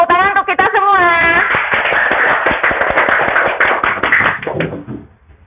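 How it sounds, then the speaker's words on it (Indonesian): Group of people, likely a classroom, clap their hands together in applause after a brief voice, a dense run of overlapping claps lasting about three seconds before tapering off. "tepuk tangan untuk kita semua"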